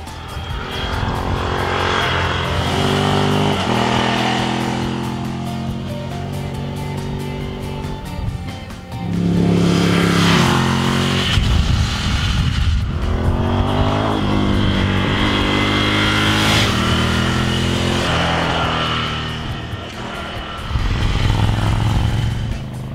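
A Ducati Scrambler Café Racer motorcycle ridden through winding valley corners, its engine loud and close, rising and falling in pitch as it accelerates out of bends and eases off into the next, with wind noise throughout.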